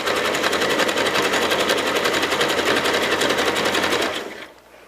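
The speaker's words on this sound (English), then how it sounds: "I'm just going to zigzag stitch there and then back tack to hold it in place good." Sewing machine running a zigzag stitch through fabric while making a fabric basket, a steady, loud, rapid needle chatter that holds for about four seconds, then slows and stops.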